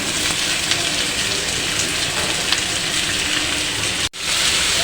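Sliced onion and grated sweet pumpkin hit a hot frying pan, giving a steady, dense sizzle that stays even and close throughout, with one brief dropout near the end.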